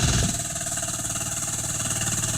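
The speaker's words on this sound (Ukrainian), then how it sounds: "З дизельним двигуном Вейма" A Weima diesel engine on a garden mini-tractor chugs steadily at close range, a loud, even low rumble with a rapid pulsing beat throughout.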